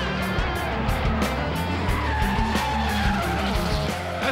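Drift cars at a D1 Grand Prix All-Stars event in Irwindale scream through a slide, tires squealing continuously over loud, revving engines close by, with the noise sustained and intense throughout.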